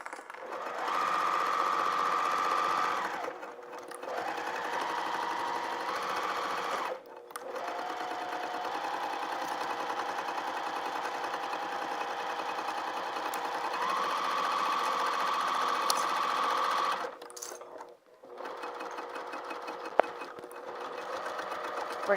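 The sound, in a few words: sewing machine stitching a holiday stocking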